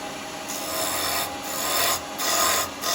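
A turned wooden ring box is sanded with fine abrasive, producing a close, continuous rubbing rasp that swells and eases in repeated strokes, with brief gaps as the paper shifts.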